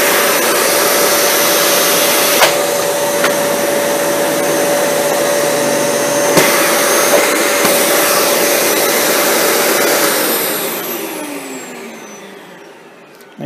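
A Dyson Cinetic Big Ball upright vacuum cleaner runs with a loud, steady motor whine and airflow roar, a faint tone throughout, winding down toward the end.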